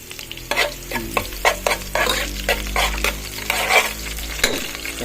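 Tuna pasta with onions being stirred in a pan, loud scraping strokes repeating in an uneven rhythm over a soft sizzle, close up and alone.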